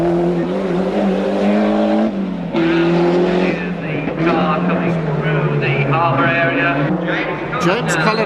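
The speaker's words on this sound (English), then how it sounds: "The car coming through the harbour" A rally car roars past through a harbour at the 1991 Manx International Rally, with a loud engine drone that rises and shifts, under continuous commentary from a man.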